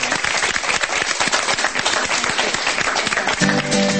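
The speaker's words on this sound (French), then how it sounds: "Allez, on l'applaudit." An audience applauding, dense sustained clapping from many hands filling the room steadily for several seconds, fairly loud and close.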